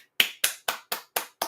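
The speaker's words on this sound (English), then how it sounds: "Golf clap for him" A single pair of hands gives a slow golf clap: six crisp, evenly spaced claps about a quarter second apart, close and fairly soft, with nothing else around them.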